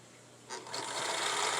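A sewing machine stitches over pleated fabric, its steady mechanical whir starting partway in and running continuously, close and moderately loud, with no talking.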